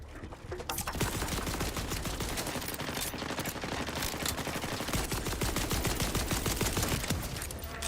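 Dense, continuous turret gunfire in the video game Borderlands 4, loud rapid automatic bursts layered into a steady barrage that runs the whole stretch without pause or talk.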